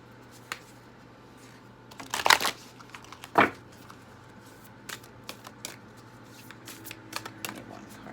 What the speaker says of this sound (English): I'm going to pull one card from the Whispers of Love